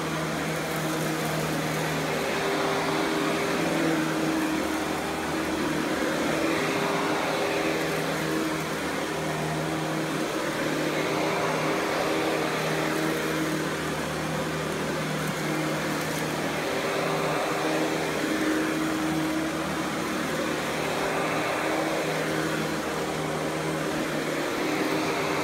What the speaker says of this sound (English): Now that was part one of the vacuum test.